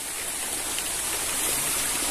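A river stream in Pola, Oriental Mindoro rushes in a continuous, loud, broadband wash of flowing water, steady throughout with no voices.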